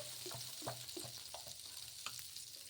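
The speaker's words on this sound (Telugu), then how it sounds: "పెన్నం వేడెక్కిన తర్వాత కొంచెం వేసుకొని దోశ వేసుకోవడమే" Pumpkin dosa batter sizzling on a hot pan, a steady soft frying hiss with faint light taps and scrapes, heard close without any talk.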